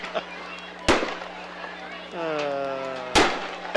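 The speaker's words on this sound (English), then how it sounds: "So there, you missed one heck of a fireworks display." Fireworks display after a high school football game: sharp, loud booms, one near the start and another near the end, with a whistling rising burst between them over a low steady hum.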